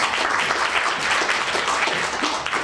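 Steady applause from a crowd, dense and continuous clapping at an even level throughout, with no pauses.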